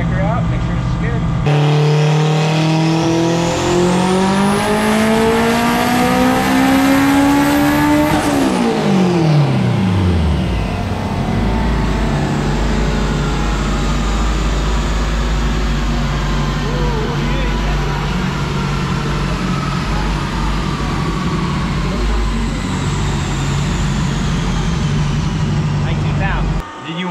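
A race car engine, running after a new pump was fitted, roars loud and close, rising steadily in pitch before dropping off sharply, then holds a steady, heavy rumble throughout.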